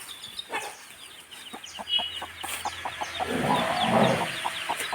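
A hen clucks in a home garden, giving short repeated calls with soft scratchy rustling beneath, fairly close and rising slightly toward the end, with no talking.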